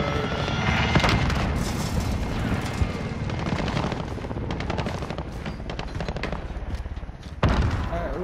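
A grenade blast and gunfire in Call of Duty: Modern Warfare, with heavy booms and continuous rattling shots forming a loud, chaotic battle din that ends with a sharp, sudden bang.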